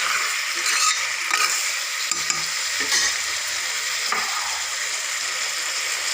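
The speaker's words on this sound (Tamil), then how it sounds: "காளான் நல்லா வேகட்டும் லைட்டாக." Mushrooms frying lightly in a pan, a steady, close sizzle with occasional scraping of a spoon stirring, continuous and alone without voices.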